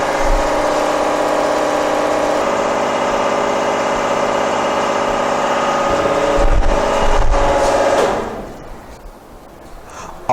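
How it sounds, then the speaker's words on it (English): A hydraulic pump on a double shear testing machine hums steadily and loudly, with a few knocks and clunks near the end before the drone drops away to a quieter background. "Switch on the pump, open the control valve."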